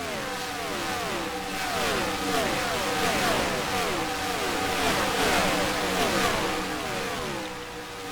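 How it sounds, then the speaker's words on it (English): Race car engines from a NASCAR video game at Auto Club roar continuously as cars cross the finish line, a dense steady drone with repeated rising and falling pitch sweeps as cars pass, no talking. "As they cross the line, Chase Elliott was able to sneak back into t"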